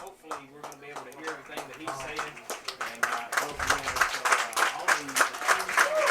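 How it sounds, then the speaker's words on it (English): A crowd at a middle school football all-star game claps continuously at a moderate distance as a team takes the sideline, the applause swelling louder over a few seconds with scattered cheers, and voices faint beneath it. "And you hear the clapping, and that's the South team making their appearance to the sideline."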